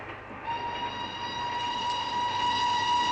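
Passenger train of the late 1940s rolling along its rails, a steady rumbling ride noise with a sustained tonal whine or whistle layered on top, moderately loud and continuous throughout.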